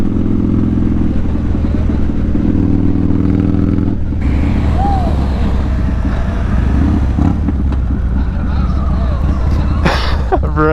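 A Yamaha MT-09 SP motorcycle engine runs with a throbbing, buzzy drone, then its tone shifts and it revs up amid clattering road noise. People talk over the engine.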